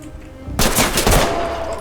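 Gunfire in the tactical shooter game Ready Or Not: after a quiet moment, a loud, rapid burst of automatic shots erupts, followed by a second burst and trailing echoes.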